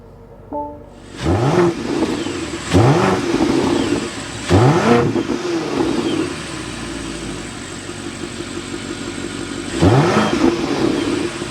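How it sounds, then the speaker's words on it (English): A 2024 BMW X7 M60i twin-turbo V8 fires up with a sharp starter bark, then four quick rev blips rise and fall over a rumbling exhaust idle, close and alone. "start it up so you can hear that exhaust note"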